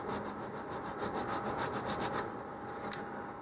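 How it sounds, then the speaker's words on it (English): An emery board rolls back and forth over small model rocket fins to round their edges, making a fast, regular rasping scrape of about a dozen rhythmic strokes, close and fairly soft, then a brief tap. "just like we did with the larger fins, you can kind of roll the emery board here"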